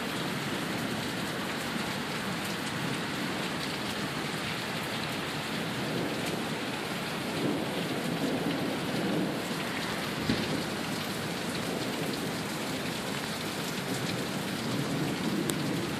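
Heavy downpour pounds steadily in Sioux Falls, a dense, loud, unbroken roar of rain with low rumbles of thunder rolling underneath.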